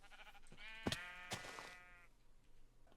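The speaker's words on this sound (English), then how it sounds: "There is a sheep right in front of us, located." A sheep in the video game Minecraft bleats in a quavering, drawn-out call, heard close and alone amid quiet game ambience, with a couple of soft clicks around it.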